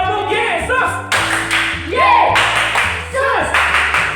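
Children at a church children's service clap along to the Tepuk Yesus chant, sharp rhythmic claps in short bursts mixed with sung or chanted voices and an underlying low musical tone.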